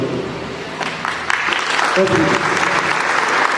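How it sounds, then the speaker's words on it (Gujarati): A crowded hall of listeners claps loudly for a speaker, sustained dense applause that carries on steadily to the end. "આ લોકો માટે 5-7 બાળકો પણ જોરદાર તાળી પાડી દેશો."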